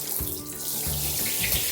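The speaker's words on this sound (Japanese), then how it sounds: "シャワーの方ね、ちょっと出してみましょうかね" Water gushing steadily from a hotel-suite shower at the Conrad Tokyo, a close, dense hiss of spray filling the short stretch with no voices.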